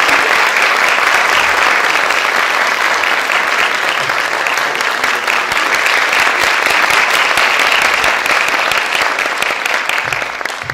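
An audience at a Turkish classical music state choir concert applauds steadily to welcome a guest artist onto the stage, dense loud clapping filling the whole stretch without pause.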